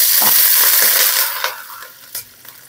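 Tap water runs in a home kitchen to fill a pot for blanching pechay and string beans for oxtail kare-kare. A steady hiss fades after about a second, then a few soft clinks follow.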